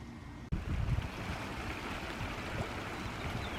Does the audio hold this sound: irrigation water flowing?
yes